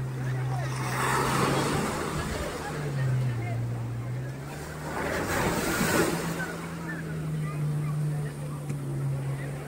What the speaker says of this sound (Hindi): ये देखो काफ़ी लहर है आज पूरा